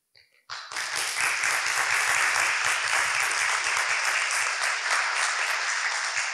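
An audience at a panel event during an education conference breaks into applause after a brief pause, steady, fairly loud clapping from a full room that continues without a break, with faint voices underneath.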